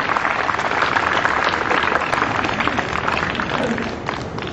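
Loud, sustained applause from a large audience at a Hindi comedy poetry gathering (kavi sammelan), dense clapping filling the whole stretch with steady intensity and a slight fade at the end.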